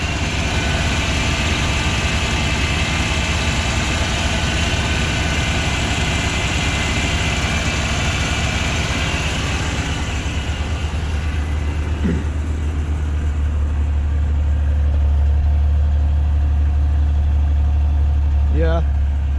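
An Oldsmobile Cutlass Supreme idles on a cold start after a Rochester carburetor rebuild, a loud, steady low rumble that carries through the whole stretch and deepens and strengthens near the end. Voices talk over it.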